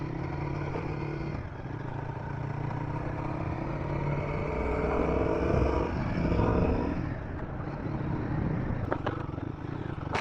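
A Royal Enfield Guerrilla 450 motorcycle rides in second gear over a completely broken road, its engine droning steadily and close with rattling clatter, dipping briefly near the end before resuming.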